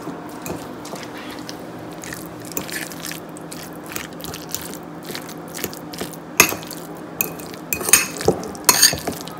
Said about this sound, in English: Just kind of mix it together.